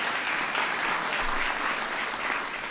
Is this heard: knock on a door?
no